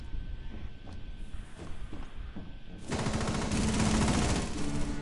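Heavy-recoil automatic gunfire in a video game: faint ticking steps give way about halfway through to a loud, dense, continuous burst of rapid shots that lasts to the end.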